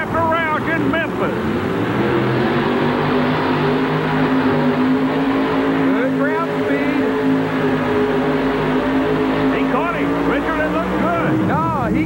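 A Chevrolet Rodec-powered pulling vehicle with a 23 fiberglass body at a 1989 Memphis pull-off roars steadily down the track, a loud sustained engine drone with rising and falling harmonics, an announcer talking over it.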